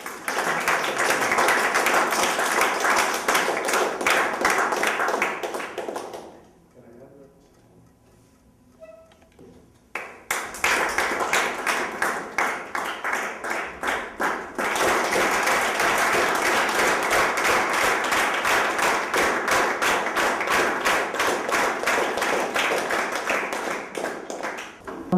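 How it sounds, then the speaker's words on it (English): Audience applause at a talk to MBA students, a steady loud round of clapping that drops away briefly midway and then resumes at full strength. "Give an applause for Arthur."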